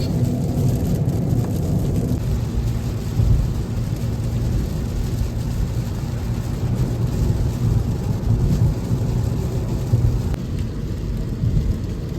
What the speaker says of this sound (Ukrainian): Одразу нам дощик.